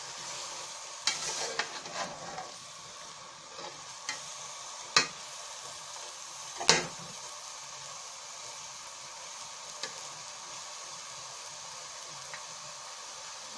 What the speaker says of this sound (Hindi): अब इसमें सारी सब्जी मिक्स कर लेंगे।